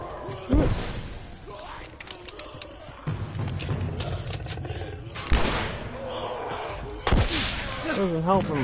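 Gunfire in the video game The Last of Us: a few sharp, loud shots spaced a couple of seconds apart over a rumbling in-game background.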